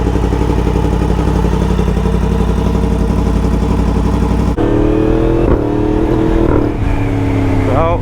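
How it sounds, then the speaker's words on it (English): Yamaha MT10 motorcycle fitted with a loud Akrapovic exhaust, heard while riding: a heavy, constant engine drone close to the microphone, with a sharp shift near the middle and rising revs and gear changes afterward. "let's get on the road and hear how she sounds on full riding modes"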